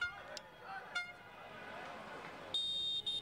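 Car horns honk in a city street as football fans celebrate Padova's promotion, a couple of short toots early on and a sustained blast near the end, over crowd noise.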